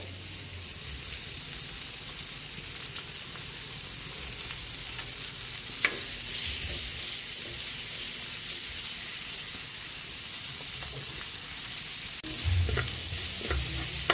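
Chopped onion frying in hot oil in a pan while being stirred, a steady close sizzle with brief scraping clatters of the utensil against the pan.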